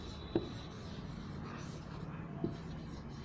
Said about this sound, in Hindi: नंबर 1 सबसे पहला फार्मूला लिखते हैं